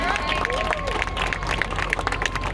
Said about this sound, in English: You can give God a hand clap.